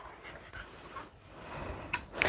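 A dog on a rural farm pants softly in quick, breathy puffs, fairly faint against an outdoor afternoon background.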